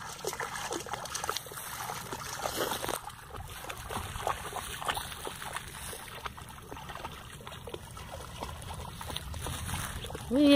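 Running water trickles and splashes steadily while a dog is being bathed, with people talking over the flow throughout.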